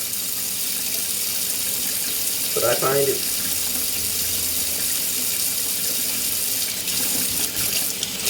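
Kitchen tap water runs steadily into a sink while corn on the cob is washed, a continuous hiss of flow with a brief clatter of handling and a few spoken words underneath.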